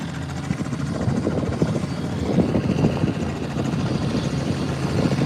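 A Robinson R44 helicopter thrums steadily close by, its rotor and engine noise continuous and loud in windy conditions.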